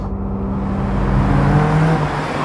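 Road traffic in Maroubra with a car passing close by, heard as a loud, steady engine rumble and tyre roar that swells slightly midway, with no voices.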